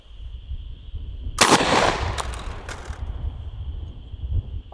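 A single booming gunshot from a huge 70-150 lever action rifle cracks out close and loud outdoors, its blast trailing into a rolling echo over a steady high electronic tone.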